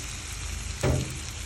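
Potatoes drop into a pan of adobo simmering in coconut milk, giving a brief soft thud and a burst of sizzling over a steady bubbling fry.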